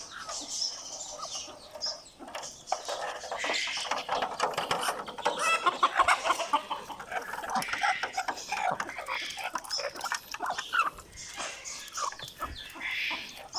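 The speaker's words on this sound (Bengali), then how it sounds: "এখন হাঁস মুরগিকে দিয়ে দিব" Ducks and village chickens peck and cluck while eating a mixed rice feed, with busy overlapping clucks, pecks and scratchy rattling sounds close by, and a person speaking intermittently underneath.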